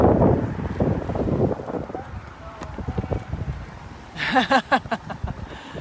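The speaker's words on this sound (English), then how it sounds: "Pretty windy." Wind buffets the microphone in low, rough gusts while people talk and shout nearby.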